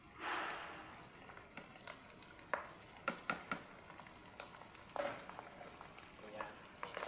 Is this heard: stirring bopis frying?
yes